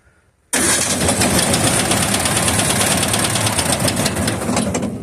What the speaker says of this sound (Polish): Na dotyk odpala ten silnik.